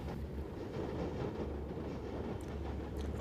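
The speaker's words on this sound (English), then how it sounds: "The Dart trains are of German origin and were supplied by Linker Hoffmann Busch." Linke-Hofmann-Busch-built DART commuter train of German origin rolling steadily past with a loud, continuous rumble, a deep low drone and faint wheel clatter throughout.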